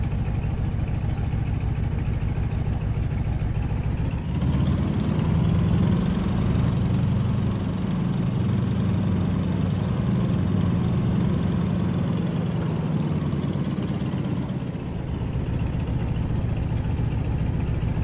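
A Stearman biplane's radial engine in Microsoft Flight, a steady droning idle that swells in power partway through, holds a throbbing rumble for several seconds, then settles back, with no talking.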